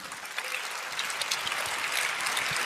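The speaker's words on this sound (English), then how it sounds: "everyone give him a round of applause" Audience applause fills the hall, a steady dense wash of many hands clapping at a community gathering, building slightly and staying loud throughout without any voices on top.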